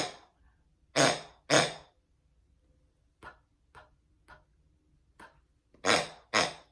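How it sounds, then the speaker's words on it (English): One of Mitzi's pigs grunting, a series of short, separate grunts, some loud and close, others softer, with quiet gaps between them. "It's one of Mitzi's pigs."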